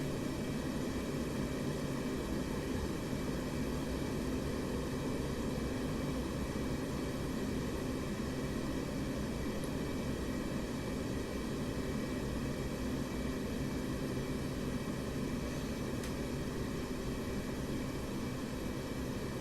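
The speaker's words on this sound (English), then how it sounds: "I'm holding the air brake open because I was coming in a bit fast." A jet aircraft on a landing approach in the DCS combat flight simulator, with the air brake held open: a continuous, steady engine roar with broad rushing wind noise, unchanging and close for the whole stretch.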